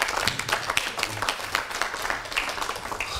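A studio audience applauds steadily as the illusionist Elxan is welcomed onto a television stage, a dense patter of claps at moderate level running throughout with no pauses.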